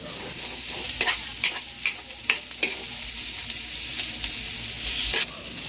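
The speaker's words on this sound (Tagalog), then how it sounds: "nagisa na ako ng bawang sibuyas" Garlic and onion sauté in a home kitchen pan with a steady frying sizzle, broken by several sharp scrapes and clacks of a utensil stirring against the pan.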